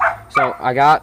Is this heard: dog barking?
yes